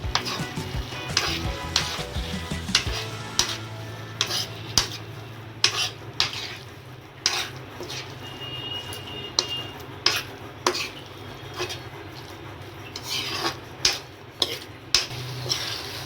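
Gawar fali and kachri vegetable are stirred in a pan, giving repeated sharp clinks and scrapes of a spoon against the metal over a low, soft sizzle that fades partway through, with no talking.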